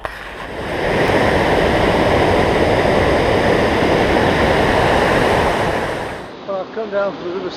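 The River Sidel in France runs high and muddy after weeks of rain, a continuous, loud broadband rush of water that holds steady, then fades out near the end.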